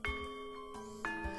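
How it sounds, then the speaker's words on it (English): A school bell chimes to mark the start of homeroom, two clear ding-dong tones sounding in quick succession and ringing out over a quiet background with no talk. "The bell rings."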